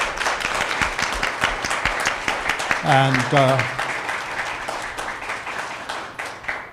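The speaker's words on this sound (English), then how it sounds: "Can we give the panel a round of applause?" A conference audience applauds a panel discussion with sustained, dense clapping, while a voice speaks briefly partway through.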